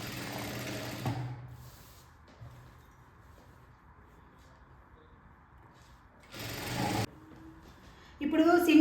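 A sewing machine stitches the fabric of a baby frock, running in short bursts at the start and again midway and at the end, with quieter handling between runs and a voice speaking at times.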